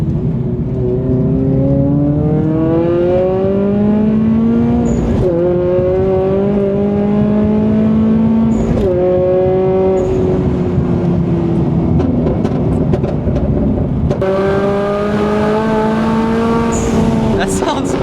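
A Toyota GR86 fitted with an XForce valved exhaust revs repeatedly while driving, its engine note climbing through the gears in several rising pulls with brief breaks for shifts, loud and close from inside the cabin.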